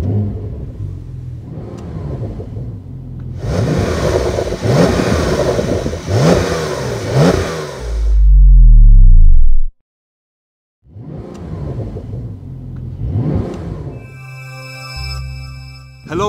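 A 2024 Brabus Porsche Rocket 900R with a 900 hp engine starts up with a loud crank and burst, then revs hard several times, pauses in near silence, and revs again before settling into a rumbling idle.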